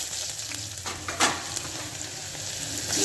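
Two onions drop into hot tempering oil seasoned with asafoetida and crackle into a loud, continuous fry. There is a sharp spike of sizzle as they land, then a steady frying hiss with soft stirring.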